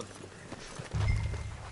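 Horses in Red Dead Redemption 2 clop and shuffle nearby, with soft hoof steps followed by a louder low thudding stretch of movement.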